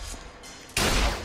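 A single loud, booming hand cannon shot from the video game Bioshock Infinite bursts in suddenly, with a heavy low thump and broad blast that holds as ringing noise.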